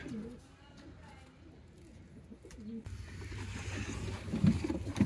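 Sialkoti champion breeder pigeons give soft, low coos close by, mixed with rustling and handling noise that grows louder toward the end.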